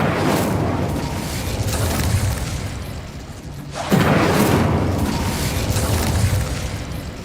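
The Incendio fire spell cast in Hogwarts Legacy on PC: a fiery whooshing burst with a deep boom, a roaring blast that dips briefly and then flares up again loudly.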